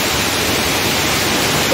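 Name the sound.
roaring water of Tons waterfall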